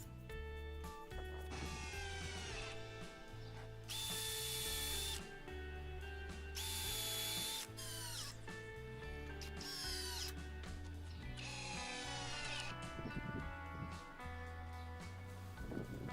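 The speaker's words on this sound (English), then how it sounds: "I drilled some pilot holes and then added the screws" Power drill driving ceramic decking screws through pilot holes into a scrap-wood shed floor frame, several loud whirring bursts rising and falling in pitch, each lasting a second or two, with short pauses between them.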